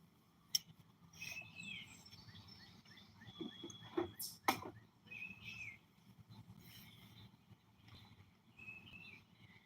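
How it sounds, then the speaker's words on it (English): Birds chirping and singing in a yard on a quiet morning, faint scattered tweets and short song phrases at a distance, with a few louder close clicks and knocks in between. "Just drinking coffee, listening to the birds."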